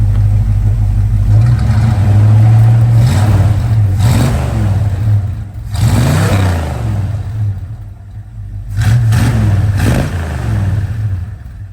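A 1968 Dodge Dart sedan engine idling with a deep steady rumble, then revved several times in rising and falling swells, loud and close with no talking.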